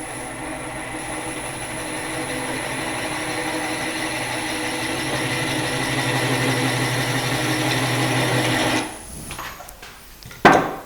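A wood lathe spins a wooden spinning top while a cutter held at 45 degrees carves a spiral effect, giving a steady whirring hum with a continuous scraping rasp that stops abruptly near the end, loud and close.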